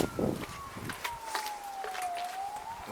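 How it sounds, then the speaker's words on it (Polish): A siren wails in the distance, its pitch slowly falling and rising, over outdoor ambience at a locomotive graveyard with faint scuffing steps and brief bursts of noise. "Syreny mnie orają."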